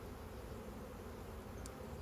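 Honeybees at an opened hive during a swarm check, a faint, continuous low buzz filling the air with no talking.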